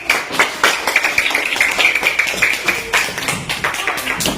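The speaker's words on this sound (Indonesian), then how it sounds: "kita kasih tepuk tangan dong" A group claps after a video is shown in a training session, a brisk, steady run of sharp handclaps from a modest crowd, close and continuous with faint background voices.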